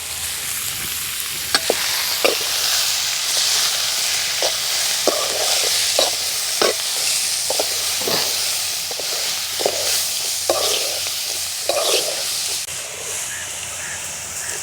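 Steady hot-oil sizzle of radish leaves frying in a pan for a tempering, broken by regular clacks and scrapes of stirring, close and fairly loud.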